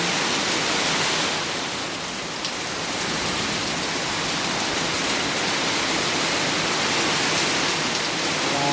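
A downpour of heavy rain hammers on surfaces nearby, a continuous loud wash of drops that holds steady from start to finish, with no one speaking.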